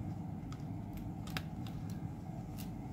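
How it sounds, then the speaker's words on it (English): Small scissors snip through tape binding servo wires in an E-flite UMX Carbon Cub model airplane, a few quiet, crisp cuts spaced irregularly over a faint background hiss. "I'm trying to cut through that tape as well"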